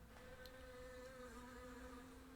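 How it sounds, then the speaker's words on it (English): Bees buzz steadily around a flower bed outdoors, a continuous close droning hum with no talking. "There's bees. There's bees. Why are there bees?"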